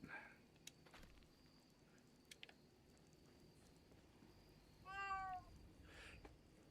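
A cat gives one short, faint meow against quiet background noise with a few soft taps.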